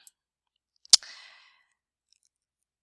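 A single sharp mouse click while working in the Microsoft Access Query Wizard, close and isolated in near silence, followed by a brief faint rustle.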